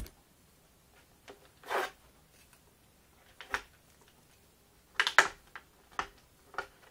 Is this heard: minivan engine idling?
no